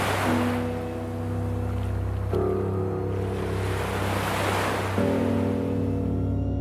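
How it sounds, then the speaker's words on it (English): Open-sea waves wash in steady, repetitive surges at moderate volume, a continuous broadband roar with a low rumble beneath and no voices. "the repetitive sound of the sea"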